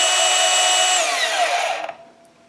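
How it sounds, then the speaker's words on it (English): A DeWalt DCS374 20V Max brushless cordless 5-inch deep cut band saw cuts steadily at close range for about two seconds, its whine falling away as the cut finishes, leaving a faint residual ring. "slide it right on the bandsaw, and continue cutting."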